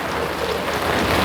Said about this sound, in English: as it thunders and rains